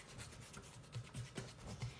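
Hands knock back risen naan dough, a series of soft, quiet rubbing and pressing sounds in irregular pulses up close.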